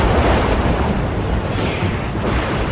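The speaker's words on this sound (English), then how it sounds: "The enemy cruiser is firing shells out in front of the retreating planes to alert Zeros overhead to their presence." Heavy naval shells from an enemy cruiser explode in the sea at the Battle of Midway, a dense, continuous roar and rumble of blasts filling the whole clip.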